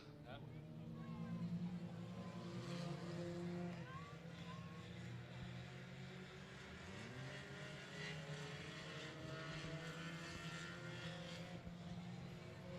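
Sport compact race cars roar off the green flag at Cotton Bowl Speedway, a sustained, fairly distant engine drone with shifting pitches while an announcer talks over it.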